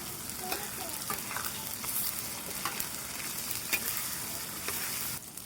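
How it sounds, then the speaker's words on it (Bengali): Shrimp fry in hot oil with onions in a pan, giving a steady close sizzle with stirring scrapes throughout and no talking. "আমি এখন চিংড়ি মাছটা একটু ভেজে নেব তেলে"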